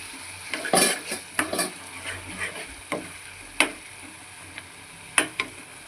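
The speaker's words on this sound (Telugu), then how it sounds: "నెక్స్ట్ పుదీనా. ఇవన్నీ ఆయిల్లో వేగాలి." Green chillies and mint leaves frying in oil for a prawn curry, a soft sizzle beneath clattering strokes of a spoon against the pan, with several sharper knocks.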